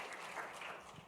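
Steady round of applause from a seated audience for three speakers at a Big Read kick-off event on a stage, a dense, even wash of clapping at moderate distance with no break.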